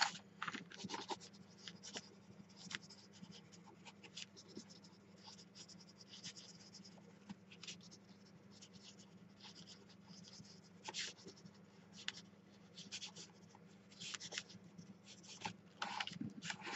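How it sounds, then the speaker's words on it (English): A big chunky pencil drawing on paper, heard as steady close scratching and rubbing strokes with brief louder scrapes, continuing alone without talk. "Just a big chunky pencil that I've been really enjoying playing with."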